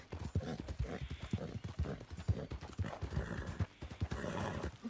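Horse hooves clip-clop in a quick, uneven rhythm in Red Dead Redemption 2, with a whinny rising near the end, fairly close and under light game sound.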